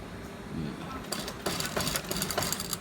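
A sewing machine stitching the collar of a men's shirt whirs in short close bursts, starting and stopping, with a quieter stretch before the motor runs.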